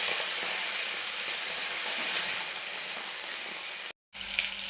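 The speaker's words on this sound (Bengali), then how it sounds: "সর্ষের তেল গরম করে চিংড়ি মাছগুলো ভেজে নেব।" Prawns frying in hot mustard oil, a steady bright sizzling hiss held close and even, briefly cutting out near the end before resuming.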